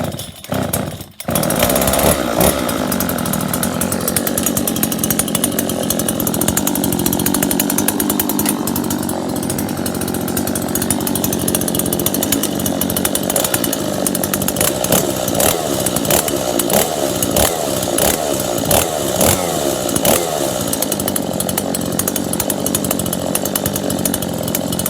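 A Stihl chainsaw started on choke with the chain brake on fires after a short pull and keeps running loud and close, its engine note rising and falling with blips of throttle.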